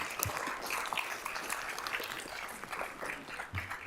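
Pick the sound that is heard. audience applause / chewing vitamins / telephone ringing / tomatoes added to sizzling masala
audience applause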